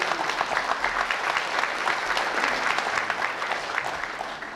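Sustained applause from an audience at a university president's farewell and inauguration ceremony, a steady dense clatter of many hands lasting several seconds with no talk over it.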